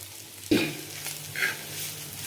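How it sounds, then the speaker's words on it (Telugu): Potato masala filling for aloo bonda frying in a pan with ginger, salt and chili, a steady soft sizzle with a couple of stirring scrapes and no talk. "బాగా మగ్గేంత వరకు ఫ్రై చేసుకోవాలండి"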